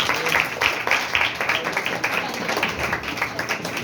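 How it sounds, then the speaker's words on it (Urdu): Clapping from a church congregation during a sermon, a steady patter of many hands filling the hall at moderate volume with some voices mixed in. "سارے جو اچھا بننا چاہتے ہیں وہ ذرا تالیاں بجا دیں"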